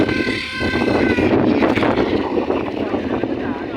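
Strong wind blows over an outdoor lagoon during mini boat races, roaring and buffeting the microphone continuously, with voices faintly mixed in.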